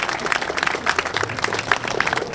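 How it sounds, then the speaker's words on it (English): Crowd applause at a political campaign launch, loud and close, with sharp overlapping claps forming a steady wash for the whole stretch. "Yeah, you can clap for that"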